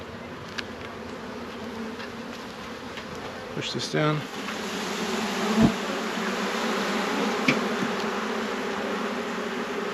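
A steady drone of bees fills the air around a home beehive, close and continuous, with a brief spoken phrase and a few clicks and knocks from handling the hive partway through.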